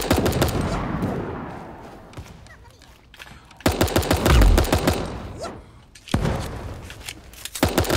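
Rapid gunfire in the online game Super Animal Royale, with dense bursts of automatic shots that break off and start again in loud clusters, mixed with excited player voices.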